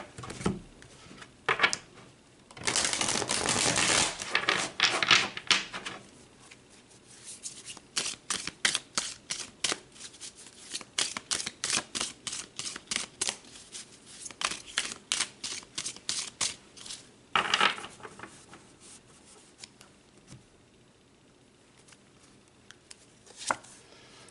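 Tarot cards being shuffled and pulled during a Taurus seasonal reading: a burst of riffling, then a long run of quick, crisp card snaps and slides, close and fairly loud, with no talking.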